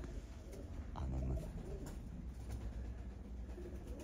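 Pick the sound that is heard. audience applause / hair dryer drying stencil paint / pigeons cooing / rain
pigeons cooing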